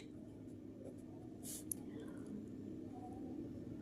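Pen or pencil scratching on paper while writing out a maths solution, a faint, steady close-up scratching with a brief louder stroke partway through.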